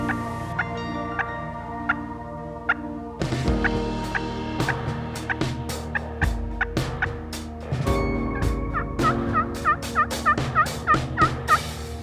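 Wild turkey gobbling in Ohio woods, several rapid, rattling gobbles repeated in bursts, fairly close and loud against a quiet outdoor background without talk.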